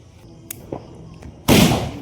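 A Rhino brand firecracker goes off with a loud, sharp bang and ragged crackling tail, preceded by a few small pops and faint handling noise outdoors.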